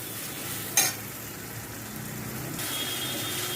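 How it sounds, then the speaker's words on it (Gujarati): Tomatoes sauté in a pan over a medium flame, giving a soft, steady sizzle with a brief stir or utensil clink partway through. "તો હવે આપણે ટમેટાને સાતળવાના છે. જ્યાં સુધી ટમેટા આપણા સોફ્ટ ન થાય ત્યાં સુધી તેને મીડિયમ ફ્લેમ પર સાતળીશું."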